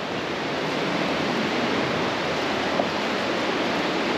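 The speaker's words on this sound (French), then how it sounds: "Ah, les cascades." Waterfalls pouring out of a cave and tumbling over rocks, a loud, steady broadband roar of rushing water heard up close without any talk.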